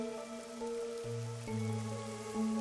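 Steady rain falls in the Master Detective Archives: Rain Code video game, a soft continuous patter under sustained background music tones, with no voices.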